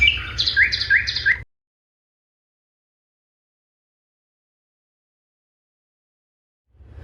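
Bright bird chirps and tweets in quick repeated phrases for about a second and a half over a low hum, then near silence.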